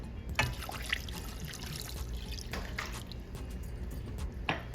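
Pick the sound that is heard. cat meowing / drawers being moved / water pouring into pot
water pouring into pot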